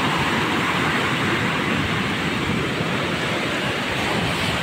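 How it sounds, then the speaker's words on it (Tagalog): High-tide sea waves surge into a beach cottage, a continuous loud roaring wash of surf and rushing water that stays dense and steady from start to finish. "Talagang super high tide, tapos sobrang lalaki ng alon kaya yan, pasok na dito sa loob ng aking cottage."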